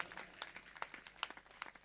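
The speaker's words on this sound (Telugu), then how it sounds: "అందరం గట్టిగా చప్పట్లు కొడదాం యేసయ్యకి" A congregation at a Christmas church service claps in a soft, scattered way: distinct individual claps at an irregular rhythm, faint and somewhat distant.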